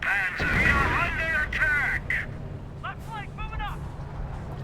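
Artillery fire in the strategy game Company of Heroes, with US forces shelling Wehrmacht units: dull low booms rumbling beneath continuous excited commentary.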